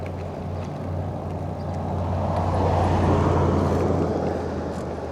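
A car passing on a quiet country road where e-bikers ride, its engine and tyre roar swelling from moderate to loud and then easing slightly, a steady low rumble with no talk.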